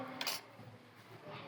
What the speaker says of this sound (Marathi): आपण त्यात साखर टाकू आणि त्याला हलवू.